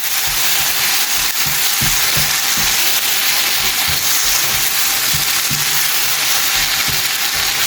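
Chopped tomatoes are frying with ginger and garlic in a pan, making a loud continuous sizzle with regular scraping stir strokes about every half second and no talking.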